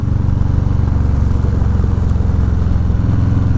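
A Harley-Davidson Low Rider S motorcycle engine rumbles steadily and loudly from up close, a deep pulsing throb held at a constant pace without a break.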